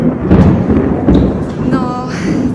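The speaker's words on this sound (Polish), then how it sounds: "Teraz też zresztą jest burza, więc zaraz pewnie usłyszycie grzmot." Low rumbling thunder from a thunderstorm rolls through steadily, fairly loud and continuous, with a faint higher tone drifting in near the end.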